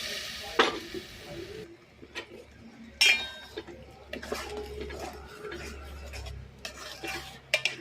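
A spoon scrapes and stirs mushroom gravy in a pan in a home kitchen, making sparse, quiet clinks and taps with soft scraping in between.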